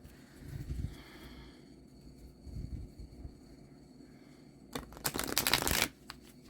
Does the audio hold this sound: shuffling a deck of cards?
yes